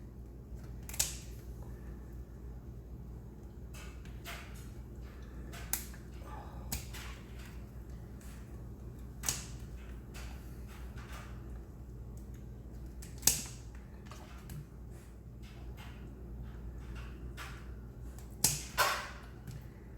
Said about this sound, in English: you're going to need a nice scissor, and all you do is just right here cut all these little things out